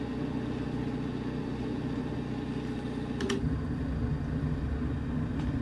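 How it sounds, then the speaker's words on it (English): Small plane engine in Microsoft Flight Simulator, a steady droning hum with a low rumble that holds level throughout, alone with no talk. "Love engine sounds, even on small planes."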